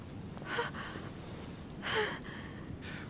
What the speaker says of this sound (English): Her breathing is becoming stable